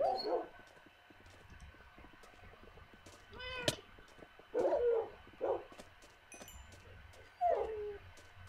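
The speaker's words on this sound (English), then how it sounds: "your dogs will still attack for you" Tamed wolves attacking in the Minecraft video game, with a few scattered short whines and yelps spread across the stretch, moderately loud against a faint background hum.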